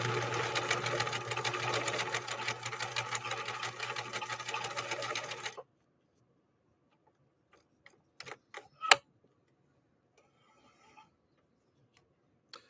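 A 1963 Husqvarna Viking 19E sewing machine stitches a tight 1x1 zigzag with a Schmetz double eye needle, running steadily and fairly loud for about five seconds, then stopping, leaving a few faint clicks and knocks.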